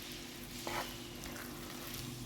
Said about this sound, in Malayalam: ഒരു 10 മിനിറ്റോളം നമുക്കിത് വഴറ്റിയെടുക്കാം.